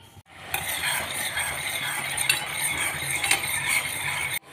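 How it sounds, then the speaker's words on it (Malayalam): Sugar syrup being stirred in a pan, with a continuous close bubbling hiss and light clinks of a spoon against the metal through most of the stretch. "ഇതൊന്ന് തിളച്ച് കുറുകി നല്ല ഒറ്റ നൂൽ പരുവാവണം."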